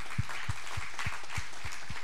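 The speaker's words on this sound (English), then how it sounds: "Can we clap for our children as they head to their classes?" A church congregation claps for the children as they head off to their classes. The steady, moderately loud clapping carries a clear rhythmic beat.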